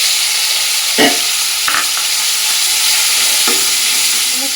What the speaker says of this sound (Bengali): এই তেলের মধ্যে চিংড়ি মাছগুলো ভেজে নেব